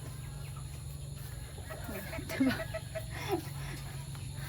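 A few soft chicken clucks sound over a low steady hum, with a brief spoken word nearby.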